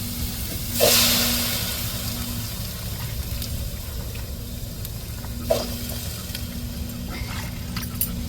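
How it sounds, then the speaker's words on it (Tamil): Shredded cabbage added to hot tempering oil with chilli, garlic and onion, a steady sizzling hiss with a sharp burst as it hits the pan and a few later stirring scrapes, no talking. "முட்டக்கோசை இப்போ தாளிப்போடு சேர்த்துட்டுருவோம்"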